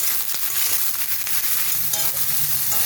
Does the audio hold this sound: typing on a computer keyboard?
no